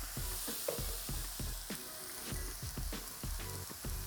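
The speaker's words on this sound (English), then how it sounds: "while the mushrooms are frying away," Chopped oyster mushrooms fry in a pan with a tablespoon of sesame oil, giving a continuous close sizzle broken by regular crackles and pops. No one speaks.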